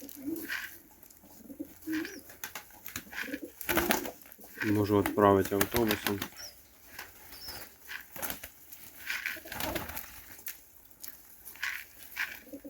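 Pigeons coo in low rippling phrases near a person who keeps talking over them, with a louder burst of cooing in the middle.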